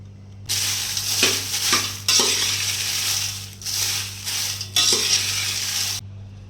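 Red chillies fry in hot oil in a pan over a high flame, giving a steady close sizzle with short stirring scrapes and breaks.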